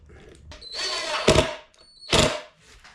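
Screws driven with a power drill to hold a guitar body down on a workbench, two short whirring bursts rising in pitch, close and fairly loud, separated by a brief pause, no talk.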